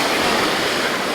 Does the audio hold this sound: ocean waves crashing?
yes